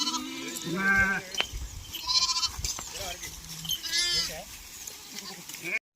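Village sheep bleat repeatedly at close to middle distance, several overlapping wavering calls in sequence, with someone talking intermittently among them.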